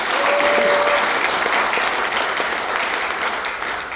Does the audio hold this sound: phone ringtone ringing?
no